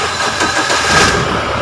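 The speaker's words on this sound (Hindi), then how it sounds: "दूसरा चाबी से भी सारी लाइट जलने के बाद स्टार्ट हो रही गाड़ी" A Mahindra Scorpio S2 engine is started with a second, newly programmed key and catches at once into a loud, steady running rumble close by. No voices are heard.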